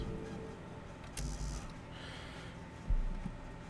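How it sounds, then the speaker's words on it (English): Creepy, faint breathing inside a vehicle grid in Space Engineers, with soft snorting and gasping breaths scattered over a low ambient hum, and a louder breathy burst near the end. "So I can hear somebody breathing."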